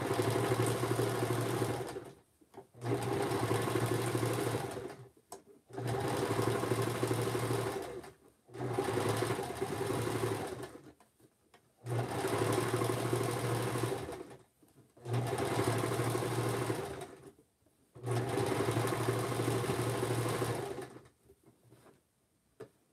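A sewing machine zigzag-stitches close to a fabric edge in seven sustained, loud bursts of steady whirring, each lasting a couple of seconds and separated by short pauses, with no talking.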